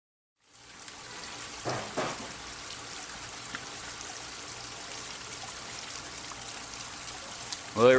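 Water flows steadily from a DIY rock fountain bubbler into a backyard pond being filled, a soft continuous trickle with a few brief splashes and a louder gurgle at the very end.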